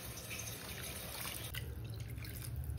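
Water poured from a cup into a cooking pot, making a steady, close trickling and dripping sound that runs unbroken through the moment.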